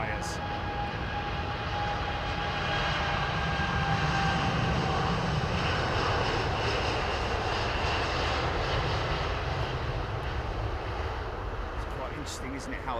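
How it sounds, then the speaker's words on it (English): A large aircraft taxis at London Heathrow Airport in fog, its engines droning steadily while the tyres give a low continuous rumble; the sound stays loud and even throughout, with someone speaking faintly underneath. "listen to the rumble from the tyres."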